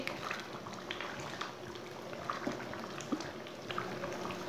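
Masoor dal with potatoes bubbles softly in a pot while being stirred with a spoon, producing a faint, steady simmer with small pops and light spoon clinks and no talk.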